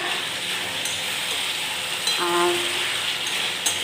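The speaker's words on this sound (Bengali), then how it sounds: "মাংসটা কষছি, তারপরে পোলাওটা বানাবো।" Chicken being sautéed in a pan for kosha: a steady close frying sizzle with a brief stirring scrape partway through, and a single word spoken over it.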